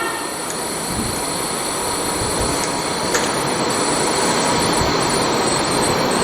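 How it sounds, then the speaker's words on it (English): Steady whirring hum of a lab DC servo motor running with a magnetic brake near its rotor, continuous and even with a thin high whine throughout, loud and close. "brings this brake magnet closer to the servo motor system, that is the rotor system."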